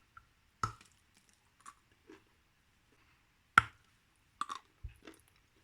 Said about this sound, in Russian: Глинка очень плотная, и от большого кусочка тяжело откусывать.